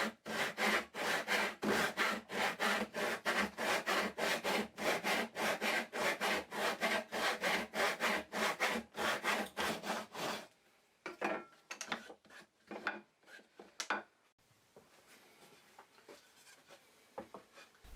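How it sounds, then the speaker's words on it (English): A tenon saw cuts a reclaimed hardwood board to length with steady, rhythmic back-and-forth rasping strokes, close and crisp. The strokes stop partway through, leaving a few scattered knocks and handling sounds. "I'll then cut the board to length using a tenon saw."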